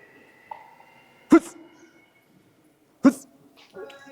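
A dog whimpers in thin, high whines during an obedience training session, broken by two sharp, loud bursts close by and quieter noises between them.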